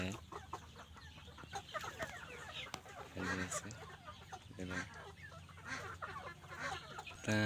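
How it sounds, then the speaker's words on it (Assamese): Chickens on a farm, clucking and cackling in repeated bursts across the stretch, fairly close, with a person talking now and then alongside. "মুৰ্গী হয় এইটো"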